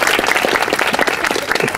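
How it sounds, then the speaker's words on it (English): Dense applause fills a screening evening as the audience welcomes a filmmaker: loud, close, rapid clapping from many hands throughout, with no talking. "give him a round of applause"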